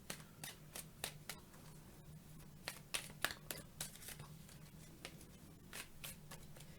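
A tarot deck is shuffled by hand in a quiet room, giving soft, irregular papery riffles and slaps close by.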